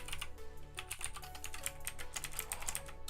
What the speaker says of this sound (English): What is going on with my typing today